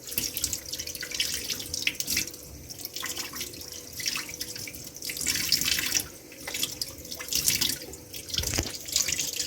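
Wild Melki (Çıntar, Kanlıca) mushrooms are washed in a basin of water, with close, steady splashing and sloshing, tap-like running water and intermittent drips. There is no talk.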